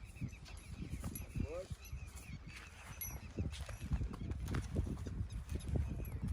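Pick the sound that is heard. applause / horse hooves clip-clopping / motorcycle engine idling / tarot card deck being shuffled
horse hooves clip-clopping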